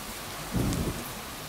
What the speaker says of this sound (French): Ah, la grêle, la grêle.